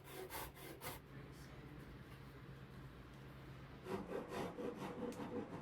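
A Shinto rasp scrapes across wood while shaping a cigar box guitar, a steady coarse rasping with bursts of quick back-and-forth strokes at the start and again near the end, close and moderately loud.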